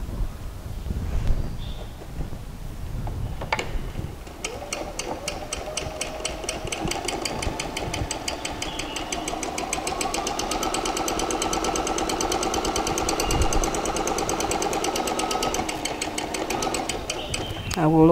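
A sewing machine runs steadily while stitching the pocket seam of a pair of shorts, its fast mechanical hum and regular needle ticking continuous for most of the stretch after a few brief knocks at the start.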